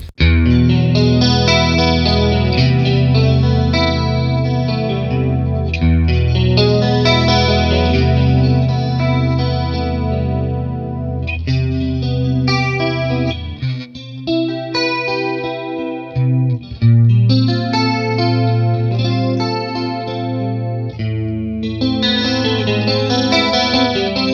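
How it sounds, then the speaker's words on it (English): Guitar through a TONEX FX chorus effect and reverb, chords ringing out in a wide, shimmering wash, loud and continuous with brief pauses between phrases. "Let's start with the chorus first."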